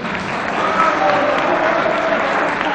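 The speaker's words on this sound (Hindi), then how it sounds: "तालियां बजाना है नौजवानों" Young people in the audience at a medical college carnival clap together loudly and continuously, a dense burst of applause with faint tones from a song carrying underneath.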